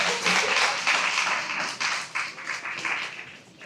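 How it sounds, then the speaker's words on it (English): Audience applause for students at an elementary school spring instrumental music concert, a steady, dense wash of clapping that carries on at an even level throughout. "a round of applause for these students who have worked so hard"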